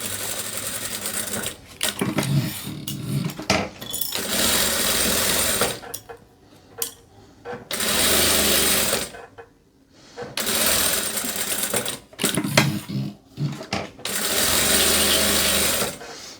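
A sewing machine stitches a collar seam in bursts of a few seconds each, loud and close, with short pauses between runs and no talking.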